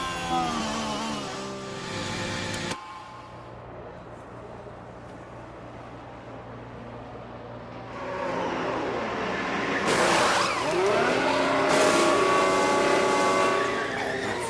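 Formula 1 race cars in F1 Manager 2013 at the Austrian circuit, engines whining past at high revs, fading to a low hum and then swelling again as more cars roar by loudly.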